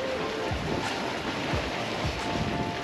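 Strong side wind blows at the sea during spinning fishing, a steady broadband roar of gusts buffeting the microphone with waves washing underneath, loud and continuous with no talking.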